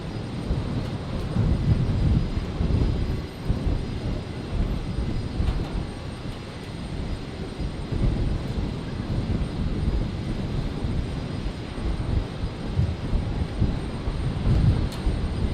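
A Qantas jet at Brisbane Airport on a stormy night gives a loud, steady roar of engine noise that swells and eases slightly while staying continuous, with no talking.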